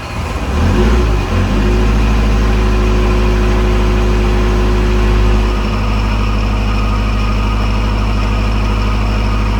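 A heavy seven-turbo truck engine roars loudly close by, rising in a rev with a whining tone before settling into a steady, deep, rumbling idle.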